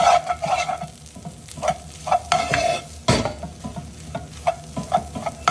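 Potatoes with onions, cheese and parsley are crushed in a pan, giving close, rhythmic scraping and stirring strokes over a light sizzle, repeating every fraction of a second.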